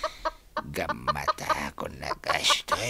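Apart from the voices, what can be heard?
chicken clucking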